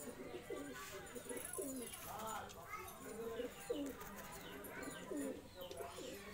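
A pigeon at a loft coos in repeated soft rolling phrases, close and steady, over a low background murmur of people talking and other birds.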